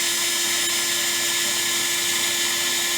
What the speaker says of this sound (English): we have to drill our metal box in that way